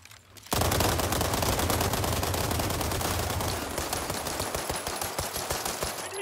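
Fast, continuous G17 pistol fire in World War 3, loud and close, a steady rapid stream of shots starting abruptly after a short quiet moment and running to the end.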